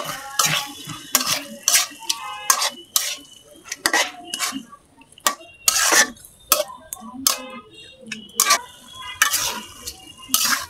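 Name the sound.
stirring rita fish in spiced masala in a pan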